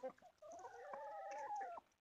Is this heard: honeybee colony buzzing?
no